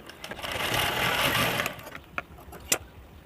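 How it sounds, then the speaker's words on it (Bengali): A sewing machine stitches joined bias strips of fabric in a fast, steady whirring run of about a second and a half, followed by a few sharp clicks and taps nearby. "দুটো পট্টিকে এইভাবে রেখে একটি সেলাই করে জয়েন্ট দিয়ে নেবেন"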